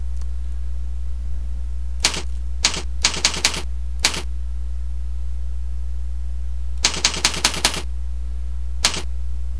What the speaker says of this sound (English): we want to type in the name of the service